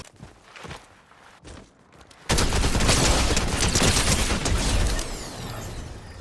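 Rapid gunfire from a weapon caught by fishing in Fortnite erupts after a few scattered footsteps, a dense sustained burst of shots that continues for several seconds before easing.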